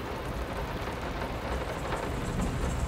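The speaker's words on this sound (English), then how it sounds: "the storm is quite loud" Steady heavy rain with a low rumble of thunder from a storm in the horror video game Layers of Fear, loud and continuous with no talk over it.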